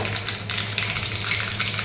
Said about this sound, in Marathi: तर तेल तापले, मी त्याच्यामध्ये मोहरी टाकून घेते.